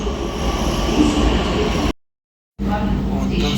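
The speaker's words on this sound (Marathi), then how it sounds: "metro almost in front of me" A metro train passes close by as a loud, steady rumble of wheels on rail. The roar breaks off into a brief silent gap and then resumes just as heavy.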